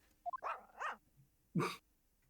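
A small dog gives a few short yips and barks, then one louder bark after a pause, with quiet around it, in the video game The Great Ace Attorney 2.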